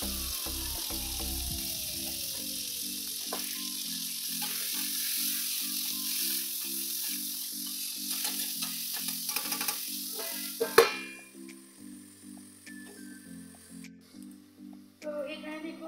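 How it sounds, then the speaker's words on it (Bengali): Okra fries in a pan with a bright, steady sizzle and occasional stirring, heard over tuneful background music; the hiss drops away near the end, leaving scattered clatter. "তারপরে আমি ঢেঁড়স ভাজিগুলো করে নেব"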